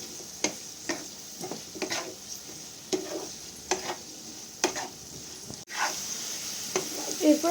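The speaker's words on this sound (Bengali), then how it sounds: "হলুদটা ভালো করে আমি এর সাথে মিশিয়ে নেব।" Potatoes fry in a pan as turmeric is stirred in, a spatula scraping in repeated strokes over a soft steady sizzle, close and moderately quiet.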